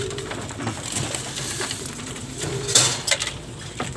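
Racing pigeons at a loft squabble over feed, with close, overlapping coos, flutters and scuffling, and a sharper flurry of wing and beak noise partway through.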